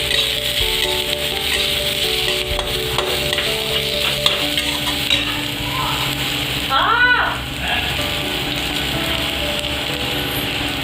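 Food frying in a pan with fresh coriander leaves, a steady sizzle overlaid by scraping and rattling as it is stirred, with a brief louder clatter partway through and background household noise.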